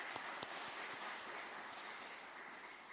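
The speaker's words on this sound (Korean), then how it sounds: "축복하고 격려하는 박수 한 번 더 하겠습니다." A church congregation at a Wednesday worship service in Bucheon claps steadily in a dense, sustained round of applause, with no voices over it.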